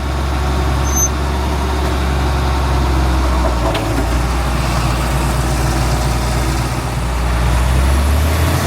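A John Deere 4430 tractor with a Kuhn 8132 manure spreader running steadily in first gear with the PTO engaged, giving a loud, close, continuous diesel drone that never lets up.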